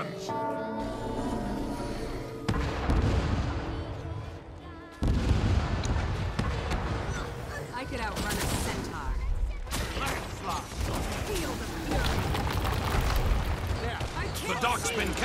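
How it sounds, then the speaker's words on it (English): Cannons boom and rumble in a multiplayer conquest video game battle, a dense loud barrage of blasts layered with game music and effects throughout. "Fire all cannons."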